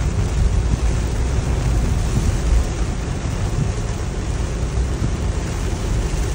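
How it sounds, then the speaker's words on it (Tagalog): Dense, steady roar of heavy rain pouring down, with deep rumbling underneath, loud and continuous without a break. "Lakas talaga ng ulan."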